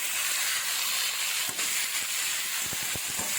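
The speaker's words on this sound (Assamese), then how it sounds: "মিক্স কৰি পেলাই অলপ ভাজিব।" Fish head mixture with ginger frying in a pan, a steady hiss of sizzling throughout with a few soft clicks and pops near the end, no talking.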